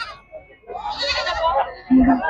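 Male goats at the Chilakalu livestock market in a short burst of bleats: a quavering call early on, then a louder close bleat near the end, with someone talking across much of it.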